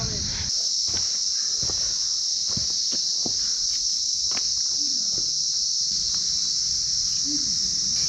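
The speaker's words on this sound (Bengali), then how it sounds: "এই ঝিঝি পোকার ডাক" Dense, steady cricket chorus fills a pine forest, a loud continuous high buzz with scattered faint clicks and rustles beneath it.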